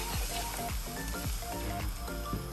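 Chicken tenders with sorrel petals dropped into hot oil, a steady close hissing sizzle with bubbling crackle running continuously.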